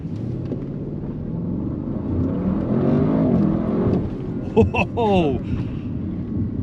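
An Audi RS 6 GT wagon's engine rises in pitch as the car accelerates on the road, heard from inside the cabin under wind and road rumble, with a brief shift and renewed pull near the end.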